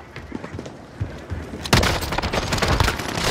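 Dense gunfire bursts from a battle royale video game, starting sparse and light, then erupting into loud, continuous rapid shooting and impacts about halfway through, with faint voice chatter underneath.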